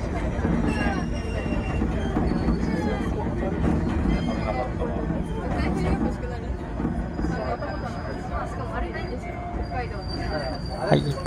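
An Enoden train pulls into Kamakura-Kokomae station on a calm, sunny day by the sea, rumbling and clattering steadily with faint wheel squeal while people chatter in the background.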